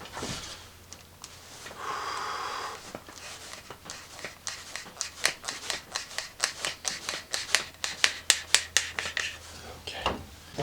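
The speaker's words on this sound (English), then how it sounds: "I'm going to cut it down right now. I'm trying to remove it without breaking it apart." Hand-cutting a piece down to length while building a replica of the sword Anduril: a long run of rhythmic rasping strokes that grows louder and steadier, close and alone.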